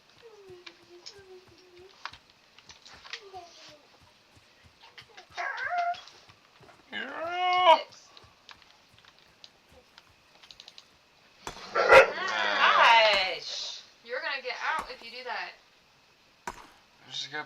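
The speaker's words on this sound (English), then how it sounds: "Crazy dogs." Pet dogs indoors whimper and whine in rising, wavering cries, then break into a louder burst of barks and growly yelps near the end, close and in uneven bursts with quiet gaps and faint clicks between.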